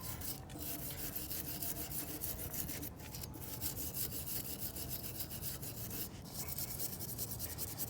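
Brisk, steady scrubbing works Purple Power cleaner into the gunk on engine cylinder heads, a continuous rough rubbing that stays fairly quiet and close for the whole stretch.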